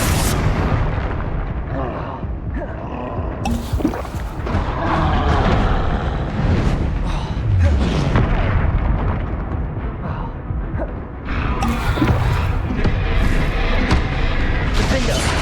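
Confringo blasting spells explode repeatedly in Hogwarts Legacy combat, loud booming bursts layered among spell effects and clashing battle noise, with a voice shouting incantations.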